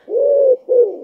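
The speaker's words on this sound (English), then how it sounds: "It's a wood pigeon." Two low, mellow coos from a wood pigeon, one long and one shorter after a brief gap, clear and close with nothing else around.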